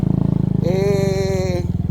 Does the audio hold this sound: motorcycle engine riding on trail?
yes